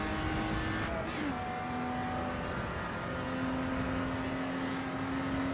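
Lotus race car engine in Assetto Corsa Evo holding a steady drone with a gear shift early on, the tone dropping then settling into a sustained hum.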